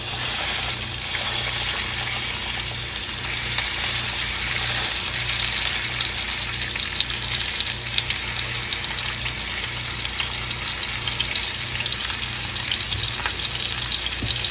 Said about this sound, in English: we have our bacon grease reserved in the pan. Get that nice and hot, and we will add our rouladen